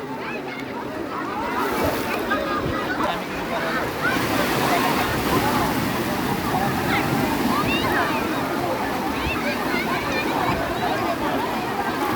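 Sea waves wash steadily against the shore in a continuous, loud roar of surf, mixed with gusty wind buffeting the microphone and faint talk in the background.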